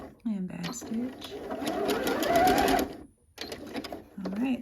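A sewing machine back stitching a side seam of a mock neck bell sleeve top, whirring in a close, steady run with brief stops, and a voice talking around it.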